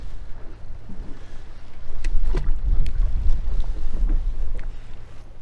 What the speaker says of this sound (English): This wind is getting absolutely ridiculous.